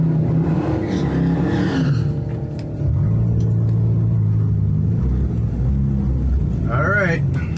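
A Fiat 500 Abarth tuned to about 190 BHP rumbles steadily at a drag race, its engine loud and close throughout, with a brief dip in level before the drone resumes.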